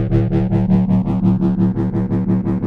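A sustained synth bass note from a Yamaha DX7 synthesizer throbs in regular pulses, with a sweeping phaser effect giving it a swirling, moving texture; loud and alone.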